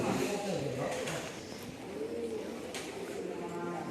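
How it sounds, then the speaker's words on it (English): Pigeons cooing around a temple by the Brahmaputra, low soft coos under continuous crowd murmur and a talking voice. "Pigeons all around"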